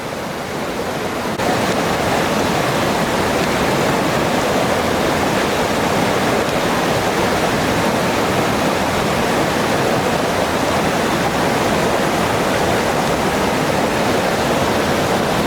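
Water rushes loudly and steadily at an outdoor stream, a dense unbroken wash of sound that fills the whole stretch with no voices.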